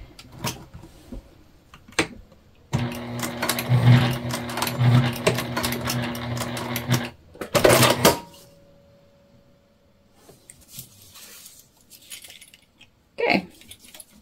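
Sewing machine stitching through quilted fabric in a burst of about four seconds of rapid needle clatter, followed by a shorter run, close and clear, with quiet handling noises between.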